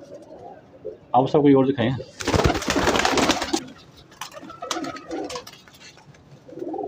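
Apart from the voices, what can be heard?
pigeons cooing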